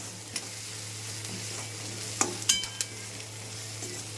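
Onions and green chillies fry in oil in a home kitchen, a soft, steady sizzle broken by a few sharp clicks of stirring near the middle.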